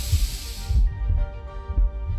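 A heartbeat sound effect from the game The Life and Suffering of Sir Brante, with low, deep thumps in a slow, regular double-beat rhythm, close and prominent over a soft hiss that fades out early.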